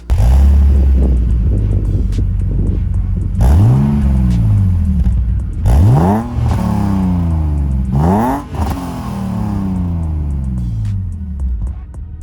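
A BMW E46 with the OEM BMW Performance Exhaust revs repeatedly with deep exhaust rumble, rising and falling in several loud, close bursts over a steady idle.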